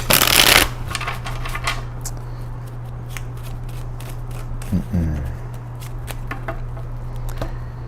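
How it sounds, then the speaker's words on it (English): Tarot cards are shuffled in a long session: a loud riffling burst at the start, then softer, scattered card snaps and slides over a low steady hum. "It's a long shuffle,"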